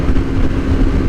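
A Yamaha R3 motorcycle fitted with an Akrapovic slip-on exhaust, giving a loud, steady, close-up engine drone with a dense low rumble, heard alone.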